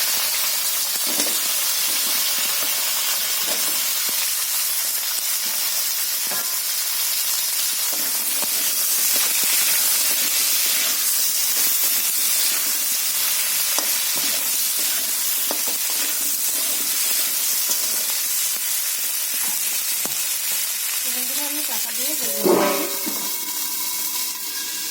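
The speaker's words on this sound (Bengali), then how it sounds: "কাঁচা টমেটো এবং আলুটা আমি দিয়ে দেবো।" Raw tomato and potato frying in hot oil in a wok, a loud continuous hiss and crackle that holds steady throughout, with a brief knock or clatter near the end.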